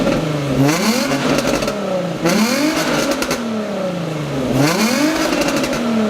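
An Infiniti G35 engine with test pipes in place of bad catalytic converters, revved repeatedly in three rising and falling sweeps, loud and raspy up close with no talking.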